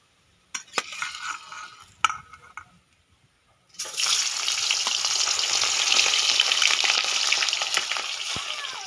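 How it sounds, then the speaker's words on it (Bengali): Turmeric-coated pieces of chara pona fish dropped into hot oil, a few sharp spatters and clinks at first, then a loud continuous close sizzle running steadily to the end, with no voices. "তেল তেতে গেছে, মাছ দিয়ে দেব।"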